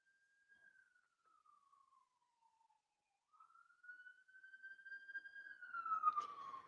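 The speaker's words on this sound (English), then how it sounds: "Ignore the sirens." A police siren wails outside, faint and distant, with a slow rising and falling tone that grows louder toward the end. No voices.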